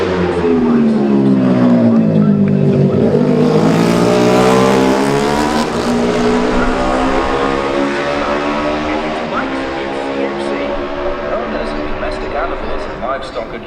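Jamie Coward's number 3 Honda racing motorcycle arrives at the Classic TT junior race, its engine note sweeping up then fading away as it passes, loud and close, with a race commentator talking over it throughout.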